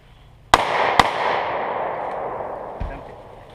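Two sharp, loud handgun shots from a Tokarev pistol fired inside a plastic bag, half a second apart, each with a long ringing decay, followed by a softer thud as a hot shell casing drops.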